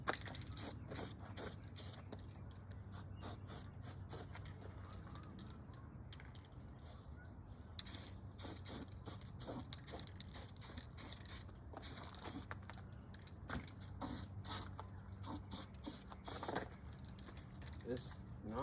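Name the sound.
spray painting a car K-member with a spray can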